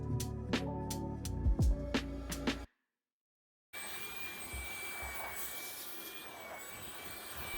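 A vacuum cleaner works the carpet in an RV loft: a few seconds of clattering handling noise, a short silence, then a steady loud motor whine with a high tonal hum running continuously to the end.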